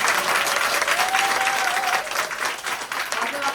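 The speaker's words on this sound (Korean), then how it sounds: "우리 너무 수고 많으신 황다영 리더님께 다시 한번 큰 박수 부탁드리겠습니다." Large audience applause at a corporate seminar in Korea, dense steady clapping filling the room for several seconds, with a host's voice heard faintly over it before it thins out near the end.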